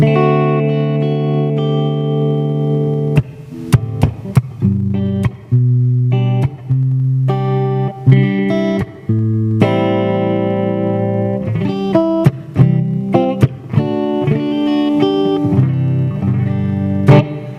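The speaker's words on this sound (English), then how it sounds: "with the distortions on, it's two distortion boxes" An electric guitar played through two distortion pedals plays heavily distorted chords and notes, sustained and buzzing, with brief breaks between phrases and no voices.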